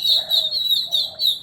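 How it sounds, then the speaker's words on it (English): Small birds calling loudly in a garden, a close, shrill repeating chirp pattern in rapid pulses, alone without speech. "Wow, birds, you are loud today."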